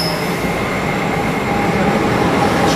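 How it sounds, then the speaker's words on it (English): An NJ Transit Northeast Corridor Line local train pulls out of Hamilton station with an ALP-46 electric locomotive trailing, giving a loud, steady rumble of wheels and cars close by with a faint tonal whine and no voices. "NJ Transit Northeast Corridor Line Super Local Train number 3866, departing Hamilton."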